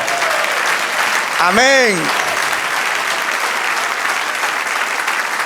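Steady applause from a church congregation clapping for the Lord, a dense even wash of many hands throughout, with a brief spoken word rising over it near the middle.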